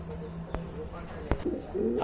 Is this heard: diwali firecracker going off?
no